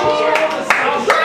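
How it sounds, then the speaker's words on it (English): A small crowd at a stand-up comedy show breaks into scattered clapping, a brief burst of hand claps with a few louder individual claps standing out near the front. "There we go, clapping."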